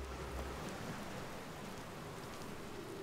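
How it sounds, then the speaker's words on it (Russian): An approaching hurricane in the video game Outer Wilds, heard as steady, faint rain-like wind noise with a low rumble, continuous across the whole stretch with no talk. "нужно дождаться, когда подойдет ураган"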